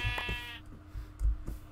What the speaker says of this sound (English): Okay, we're gonna kill some sheep.